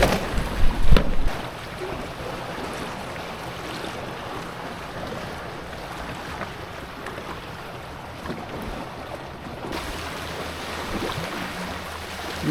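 Waves wash and slap around a Hobie Cat 16 catamaran under sail at sea, a steady broadband rush with wind, a louder splash at the start, then continuous surging water without voices.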